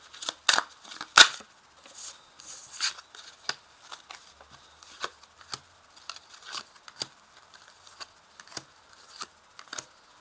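Oracle cards are shuffled and laid out on a table, producing soft, close flicks, slaps and papery rustles at an irregular pace, with a few sharper snaps early on.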